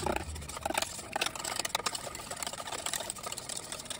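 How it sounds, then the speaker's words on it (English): Instant pudding mix is whisked in a bowl at a steady fast pace, a continuous close swishing and rattling of wire against the bowl with no talk over it. "we're just gonna keep whisking this until it's mixed thoroughly"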